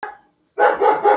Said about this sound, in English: that's Raja barking.